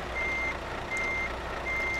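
A truck in a video game backs up a trailer while its reversing alarm gives three evenly spaced steady beeps over a low engine rumble, with no talking.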